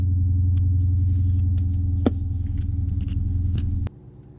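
A 2017 Dodge Charger Scat Pack's engine rumbles deep and steady while driving, then the low drone cuts off sharply near the end.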